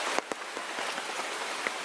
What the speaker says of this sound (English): it's been raining almost nonstop